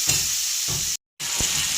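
Vegetables fry in a hot pan while being stirred for a spinach dish with prawns. A steady close sizzle runs throughout with stirring scrapes, and it cuts out briefly near the middle before resuming.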